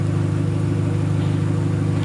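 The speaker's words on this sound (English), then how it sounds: "it is a loud exhaust" A Vauxhall VXR with a loud straight-through exhaust, Cobra pre-cat and sports cat and no silencer, idles with a steady, deep droning burble, loud and close throughout.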